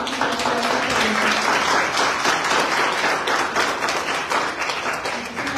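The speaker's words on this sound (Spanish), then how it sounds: "el merecido aplauso por esta exposición" Audience applause following a conference presentation, a steady, dense wash of clapping that holds at an even level for several seconds without breaks or voices on top.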